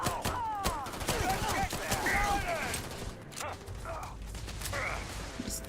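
Gunshots from the player's small gun in Starfield fire in quick repeated bursts over a busy game soundscape, with whooshing sweeps and mechanical clatter.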